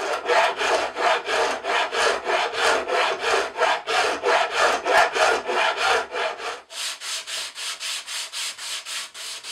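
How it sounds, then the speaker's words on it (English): A Shinto rasp shapes a wooden cigar box guitar neck in quick, regular back-and-forth strokes, a steady rasping rhythm close up that turns lighter and thinner near the end. "the way to do that is with the Shinto rasp"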